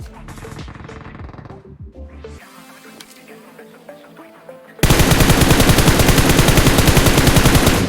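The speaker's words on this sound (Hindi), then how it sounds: "मेरे को उतने में साइड से गोली की आवाज़ आती है" Rapid bursts of PUBG Mobile gunfire, loud and continuous, turning into dense sustained automatic fire over layered game sound effects.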